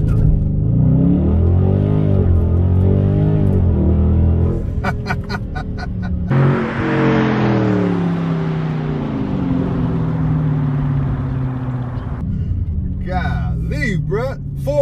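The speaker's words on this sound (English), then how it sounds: "I'm gonna ease into the gas and see if that make a difference instead of just stomping it." A Dodge Charger Scat Pack Widebody eases into the throttle for a 0-60 run, engine note rising through gears in loud sweeping pulls with a shift roar midway, while someone talks over the start and end.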